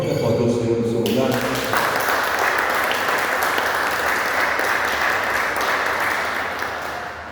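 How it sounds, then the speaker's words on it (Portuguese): A church congregation applauding during a Sunday morning service, sustained loud clapping that fades slightly at the end, with a voice speaking over the start. "Pode aplaudir o Senhor no seu lugar?"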